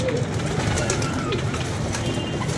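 Pigeons coo steadily and close by at a loft, a soft, continuous murmuring with a voice talking over it.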